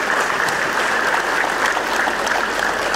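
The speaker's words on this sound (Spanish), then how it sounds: "¡Vengan los aplausos!" A room full of guests at a 63rd birthday party for a woman named Margarita gives sustained applause, a dense, even wash of clapping without pause.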